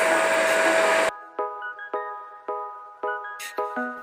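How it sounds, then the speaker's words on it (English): A diamond dressing wheel cuts a slot into a white aluminum oxide sharpening stone. A second of steady grinding hiss gives way to a run of sharp, ringing metallic strikes at a steady pace, each decaying quickly. "The diamond dressing wheel is moving slowly in a straight line."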